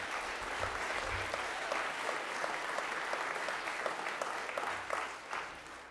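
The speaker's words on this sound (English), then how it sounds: "Not sure we need applause for this one" A crowd claps steadily for several seconds, a broad, even wash of applause from many hands at moderate distance, tapering slightly at the end.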